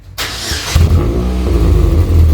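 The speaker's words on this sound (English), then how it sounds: "Casey, go ahead and start it up. This is with the baffle closed once again" A 2006 Saturn Ion Redline engine cranks and catches with the upgraded exhaust's baffle closed, then settles into a steady, deep idle with a low rumble, close and fairly loud.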